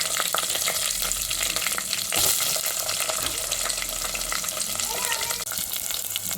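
Onions, curry leaves and chillies fry in oil with cumin for a vegetable pulusu, giving a steady, close sizzle with crackles and occasional stirring, and no talk over it.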